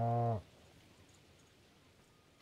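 A single short, loud cow moo from the farming game Stardew Valley opens the moment, then cuts off, leaving faint quiet game ambience and a tiny click at the end.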